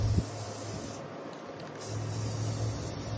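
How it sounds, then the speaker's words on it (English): Spray paint can hissing onto water for hydro dipping a vase, a faint steady spray that pauses briefly midway and then resumes, heard alone without talking. "what I'm doing is just spray painting within the water"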